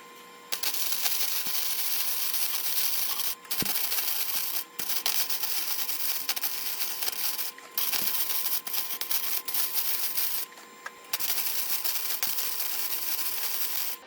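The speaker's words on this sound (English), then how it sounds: "let's go ahead and put a weld down through here, and then we'll do the other side." Arc welding on a scrap steel truck hitch mast mount for a 2-inch receiver, a steady loud crackling hiss broken by several short pauses as the bead is laid along the joint.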